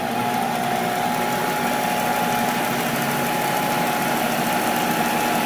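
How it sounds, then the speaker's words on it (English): Refurbished Monarch 10EE lathe with its spindle spinning fast, a quiet steady whir with faint tonal hum and light mechanical ticking, no voices. "All right, so we're definitely spinning here pretty good."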